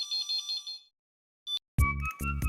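Telephone ringing in an Indian TV sitcom scene: a bright warbling ring pulses for under a second, then stops; after a brief gap, loud dense sound comes in.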